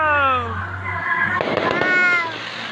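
Fireworks burst in a quick crackling cluster at a celebration, loud and nearby, mixed with excited cheering and children's voices shouting over them.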